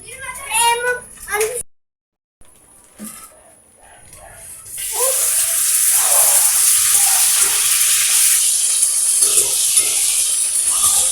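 Fries sizzle in hot cooking oil in a home kitchen, a loud steady hiss that starts partway through and keeps going to the end. Children and adults talk before the frying begins.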